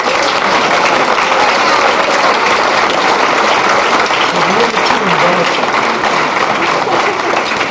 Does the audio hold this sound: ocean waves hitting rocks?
no